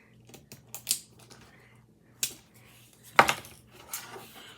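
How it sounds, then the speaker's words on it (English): A razor blade scrapes and peels back material on a handmade Pikachu-themed Pokeball, producing sharp, irregular clicks and short scratchy scrapes up close, with no talking. "take my razor blade, see if I could peel this back some."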